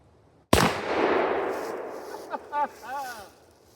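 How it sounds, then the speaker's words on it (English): A single loud, close shot from a .357 Remington Maximum revolver firing a 180-grain hollow point into a watermelon, a sharp crack with a long rumbling decay, then a few short spoken exclamations. "watermelon versus 180 grain hollow point 357 Remington Maximum"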